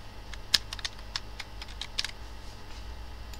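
Fingers type on a computer keyboard, entering text into an Excel spreadsheet: a steady patter of light, close key clicks with a few sharper strokes, over a faint hum and no talk.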